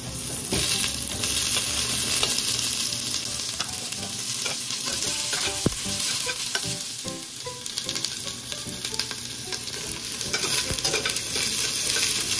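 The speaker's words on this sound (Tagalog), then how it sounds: "mainit na yung mantika natin. Pwede na natin ilagay yung ating bawang. Tapos lagay ko na rin yung sibuyas." Garlic and onion fry in hot oil for a Thai-style seafood tom yum soup, giving a steady, close, loud sizzle with stirring scrapes and small crackles throughout, and no talking.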